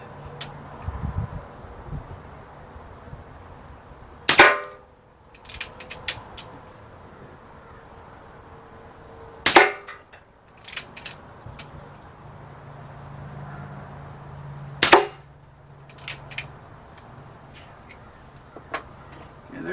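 A Diana Stormrider .177 PCP air rifle fires three sharp, close shots spaced several seconds apart, each a brief crack followed by faint handling noises over a quiet outdoor background.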